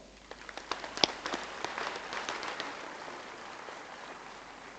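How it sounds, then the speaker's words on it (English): Applause at a university convocation ceremony in Kolkata, scattered sharp claps standing out early over a soft, fading patter that thins toward the end. "One round of applause."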